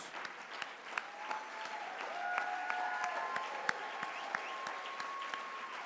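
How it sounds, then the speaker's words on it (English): Applause at a political party gala as election candidates are introduced, a soft, even spread of clapping from a crowd with a few sharper claps and faint tonal background sounds, moderately distant. "Yes, round of applause."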